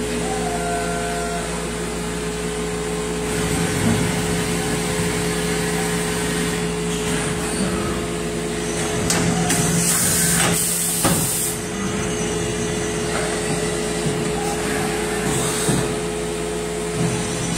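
A Mazak Integrex 200 3S CNC turning machine runs with its sub spindle moving on the W axis, a steady mechanical hum with a broad hiss and a few louder surges, close and continuous without talk.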